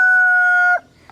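A young farm rooster gives a single loud, drawn-out crow with a steady harmonic tone that cuts off sharply, followed by a short quiet stretch with faint background noise.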